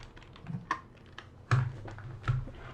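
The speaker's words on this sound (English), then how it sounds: "I'm typing into the wrong keyboard" Someone types on a computer keyboard, with scattered close clicks and a few heavier key thumps in an irregular rhythm.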